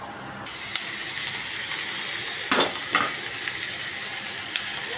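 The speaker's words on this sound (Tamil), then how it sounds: "ஒன்று ஒன்றா போட்டு நல்லா வதக்கணும்" Food sautéing in a frying pan, with steady loud sizzling and a few sharp scrapes and clinks of a utensil stirring against the pan.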